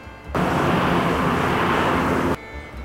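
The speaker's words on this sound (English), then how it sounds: "I notice the sound of a car going by." A steady rushing roar of a car passing, starting and stopping abruptly and lasting about two seconds at constant loudness.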